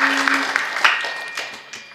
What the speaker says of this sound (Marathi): आणखी एकदा टाळ्या ती गाण्यासाठी.